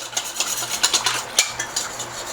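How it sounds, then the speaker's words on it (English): A whisk beats a flour mixture into liquid for mushroom gravy, producing a rapid rhythmic clatter and swish against the bowl, close and steady, with no talk. "So we're going to stir this in, we're going to whisk it in"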